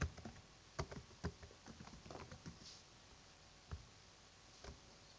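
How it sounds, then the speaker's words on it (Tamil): Someone types a name into a computer keyboard while setting up a new channel: scattered key taps, some quick clusters and then sparse single clicks, quiet and close, with no talking. "நான் டைப் பண்றேன் பாருங்க"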